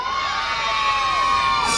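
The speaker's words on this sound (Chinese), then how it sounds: "那我可不可以要一点尖叫声？" A crowd at a Taipei temple celebration night singing show screams and cheers loudly on cue, a dense, sustained roar of shrill voices including children's shouts filling the whole moment.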